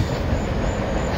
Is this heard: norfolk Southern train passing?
yes